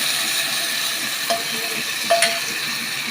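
Chopped tomato and onions frying in a pan for a tilapia fish curry, a constant hissing sizzle with a couple of sharp utensil clinks partway through, close up and without speech.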